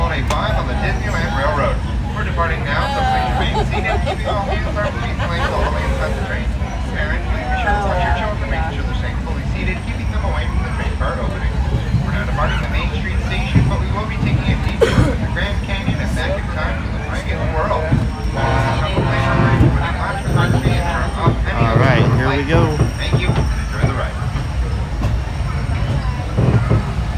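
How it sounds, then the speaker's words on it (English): Disneyland Railroad train pulling out on a holiday-decorated run, a steady low rumble and rolling mechanical drone throughout, with a loud voice talking over it much of the time. "welcome aboard Holiday 5 on the Disneyland Railroad. We're departing now"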